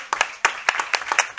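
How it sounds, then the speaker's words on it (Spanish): A small group claps for a cook in a brief, uneven burst of sharp handclaps at a rural agroecology gathering, near and without talk. "Yo le pido un aplauso para él porque ha trabajado todos estos días"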